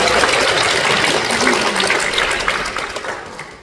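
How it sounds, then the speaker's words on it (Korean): An audience at a student showcase event applauds after a performance, a loud, dense wash of clapping that gradually fades toward the end. "우리 학생들에게 다시 한번 뜨거운 박수 부탁드립니다"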